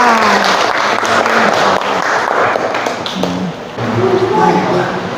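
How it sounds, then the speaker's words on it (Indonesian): Vocational high school students applaud together in a classroom during a morning lesson on workplace health and safety, a dense spread of clapping under steady talk from several voices. "kita beri tepuk tangan buat kalian semua"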